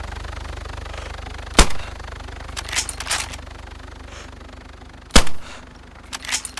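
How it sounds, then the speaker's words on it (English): Gunfire aimed at a helicopter in the survival game DayZ, two sharp isolated shots several seconds apart with a few softer bursts between, over a low background hum, with no talking. "I'm shooting it now."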